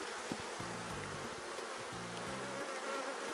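Bees buzz steadily around hives in an apiary, a faint continuous hum with individual insects droning past close to the microphone in short bursts.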